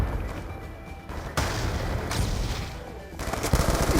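Gunfire crackles through a Call of Duty Black Ops 2 match, several sharp reports over a dense, noisy game soundscape with a burst of firing toward the end.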